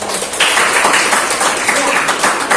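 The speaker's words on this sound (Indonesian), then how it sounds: "Ya, tepuk tangan untuk" Classroom applause during a lesson, a short burst of clapping that starts abruptly and continues steadily for a couple of seconds.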